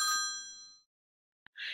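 A bright bell ding rings out loud and clear, ringing for a moment before fading to silence, after which a short click and a burst of noise follow.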